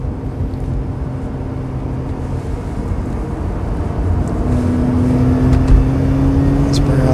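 Mazda RX8 rotary engine revving up to 6,000 rpm while driving, a steady loud drone that climbs in pitch toward the end.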